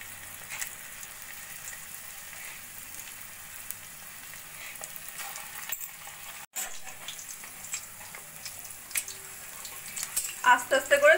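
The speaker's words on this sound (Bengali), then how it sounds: "এভাবে ছোট ছোট বলের মতো তৈরি করে লো ফ্লেমে সোনালি করে ভেজে নেব।" Chicken Manchurian balls fry gently in oil over a low flame, a soft steady sizzle with occasional utensil taps and scrapes that grow busier near the end.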